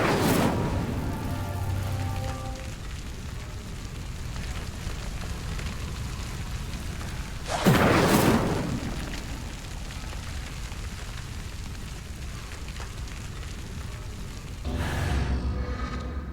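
The Incendio fire spell from the video game Hogwarts Legacy lights pyres, with three separate whooshing bursts of flame spread out over quiet background ambience.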